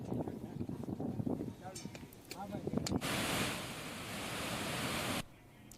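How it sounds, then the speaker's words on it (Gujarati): Floodwater roars over the overflowing Venu-2 dam near Upleta in Rajkot after heavy continuous rain, with its gates open. A voice talks at first, then a loud, steady rush of water fills about two seconds before cutting off sharply. "રાજકોટમાં ઉપરવાસમાં વરસાદના કારણે આ ડેમ જે છે એ ઓવરફ્લો થયો છે"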